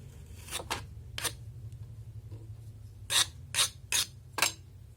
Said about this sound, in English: Now we scrape it off.